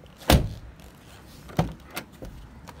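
The back door of a 2012 Mini Countryman 1.6 Cooper thuds once, followed by a couple of quieter clicks and knocks of handling, close by with no talk.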